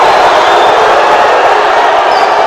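A packed basketball arena crowd at a pro league game roars continuously in reaction to a foul call, a dense, loud wash of voices and shouting that stays steady throughout.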